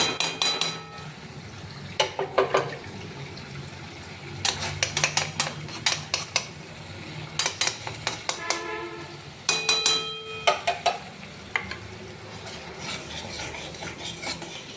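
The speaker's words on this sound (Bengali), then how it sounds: "এবার এরকমভাবে মশলাটা বেশ সুন্দর করে অনেকক্ষণ কষাবো।" Spice masala with shahi garam masala is stirred and fried in a pan, with repeated bursts of metal spoon scraping and clinking against the pan over a steady low sizzle, close and fairly loud, with no talking.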